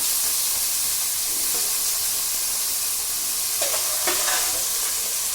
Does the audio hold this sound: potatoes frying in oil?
yes